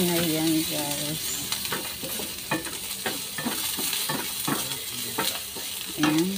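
Garlic sizzling as it fries in a pan, a continuous hissing sizzle broken by repeated stirring scrapes and light clinks, with a brief voice-like tone at the start and end.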